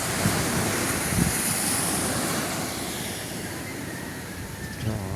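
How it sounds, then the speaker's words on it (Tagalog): Wind blows steadily past the microphone on a seaside shore, with broad rushing noise and rumbling gusts mixed with distant surf, loud and continuous throughout. "Tignan nyo naman mga kaipik ang hangin."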